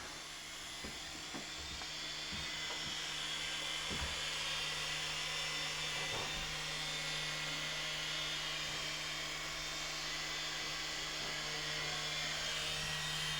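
SYMA remote control military toy helicopter flying indoors at night with the lights off, its small rotor and motor giving a thin, steady high-pitched whine at moderate distance, with occasional faint knocks and no talking.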